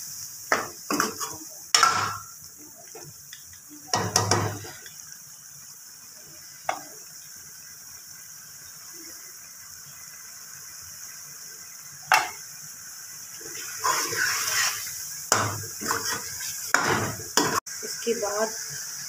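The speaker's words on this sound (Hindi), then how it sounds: "आलू डाले हैं और इनको तकरीबन 3 मिनट तक हमें इनका भूनना है" Potatoes sizzle steadily in a hot pan, with a spoon or spatula stirring and scraping against the metal in intermittent clatters.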